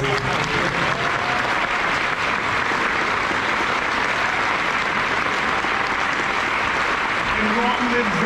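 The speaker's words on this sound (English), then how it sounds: "a round of applause for Trevor" Loud, dense audience applause filling the whole stretch, steady and continuous, with crowd noise mixed into the clapping.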